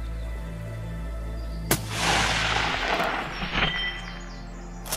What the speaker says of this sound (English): I didn't hesitate making the shot